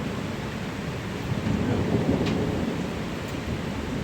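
Thunder rolls through a thunderstorm with steady rain, a continuous low rumble swelling slightly midway over the hiss of falling rain.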